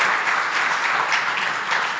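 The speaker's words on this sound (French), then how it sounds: "Un tonnerre d'applaudissements à nouveau pour Claire, s'il vous plaît." Sustained audience applause fills the clip, a dense steady wash of many hands clapping for Claire, loud and close with no talking over it.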